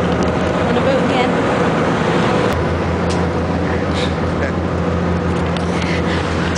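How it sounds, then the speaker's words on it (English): Steady low droning engine rumble of a ferry near Fishnish, Isle of Mull, with broadband wind and water noise, a sharp click midway, and voices faintly present. "On a boat again."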